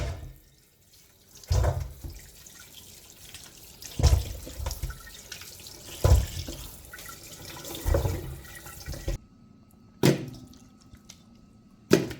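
Tap water runs into a sink while lemons are rinsed, heard as a steady trickle broken by sharp splashes and thuds every couple of seconds, close and fairly loud, with no talking.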